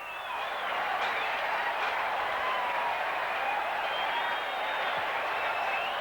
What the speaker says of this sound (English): Well, the crowd has erupted here.